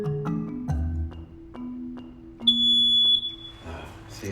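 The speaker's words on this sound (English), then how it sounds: "installed an interlinked fire alarm system" An interlinked fire alarm system in a crowded rented flat sounds off: a piercing high electronic beep rises and holds for under a second amid clunks and faint background noise.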